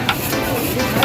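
Food is stirred in a sizzling pan: a loud, steady frying hiss with a few soft scraping strokes of the stirring running through it, close by and with no voices.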